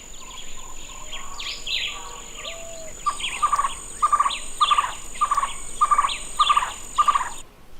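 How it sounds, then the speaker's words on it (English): A Cuban trogon calls in a Cuban forest, giving a regular series of about eight short, repeated hooting notes that grow louder, over a thin, steady insect whine and quieter background chirps. "the Cuban trogon."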